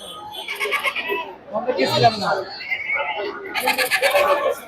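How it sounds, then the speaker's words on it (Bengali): Many goats bleat repeatedly at a busy rural livestock market selling sacrificial animals for Eid, their calls overlapping and fairly close amid a steady crowd murmur, with people talking throughout. "প্রচুর সংখ্যক ছাগল কিন্তু এখানে উঠেছিল"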